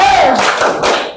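Primary school children in a classroom shout a short rhythmic clapping chant together, a burst of loud voices and claps that cuts off quickly.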